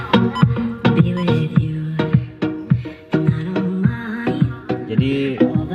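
Music plays through the stock Kenwood head unit and original speakers of a Daihatsu Terios, before any speaker upgrade, with steady rhythmic beats and a sustained melodic line at a fairly loud, even level, with no talking.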